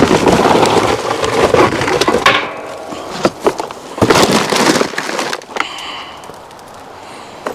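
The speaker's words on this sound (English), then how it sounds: "Put a little more charcoal in here." Charcoal briquettes are tipped and dropped into a Pit Barrel cooker, giving loud woody clattering and rattling bursts through the first half, then a few sharper knocks and scrapes fading to quieter rustling.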